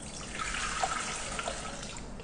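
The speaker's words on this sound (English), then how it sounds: "now I'm going to place in water" Water poured into the mixing bowl of a Thermomix 6 for a potato and mushroom soup, a soft continuous trickle with faint splashes, quiet and close with no talking.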